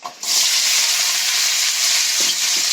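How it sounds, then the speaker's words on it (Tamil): Onion and garlic hit hot oil already holding fried fenugreek seeds, setting off a loud, steady sizzle that rises sharply and holds without a break, with a couple of faint scrapes near the end. "இப்போ நம்ம வந்து வெங்காயத்தையும் பூண்டையும் போட்டுக்கலாம்"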